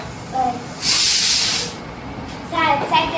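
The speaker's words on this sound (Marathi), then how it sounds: "सॉरी हा आमगे कुकर ऑन हा आवाज येयलो" A home pressure cooker on the stove releases a loud, close burst of hissing steam lasting under a second, with muffled voices before and after it.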